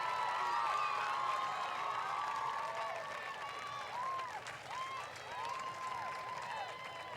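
Sustained crowd applause and cheering at a high school football game's halftime for the Totino-Grace Eagles dance line, a steady roar of clapping with scattered shouts throughout.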